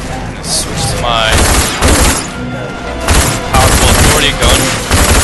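Machine gun fire in the video game Rage crackles in rapid bursts over a busy mix of game effects, with someone talking throughout.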